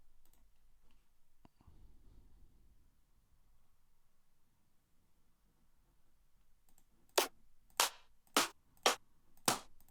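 A clap sample is auditioned during music production. After near silence and a faint click, five crisp, sharp claps ring out in quick, even succession, close and dry.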